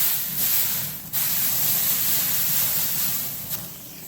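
An unseasoned ribeye steak hits a hot grill and sears with a loud, steady sizzling hiss, a sharp burst as it lands, then continuous crackle with no talking.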